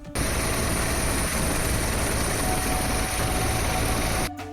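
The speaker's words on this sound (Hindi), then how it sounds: "अयोध्या प्रशासन ने हेलीकॉप्टर से पुष्प वर्षा की।" A helicopter showers flowers on Kanwar Yatra pilgrims in Ayodhya, giving a loud, steady roar of rotor and engine noise that fills the scene and cuts off abruptly near the end.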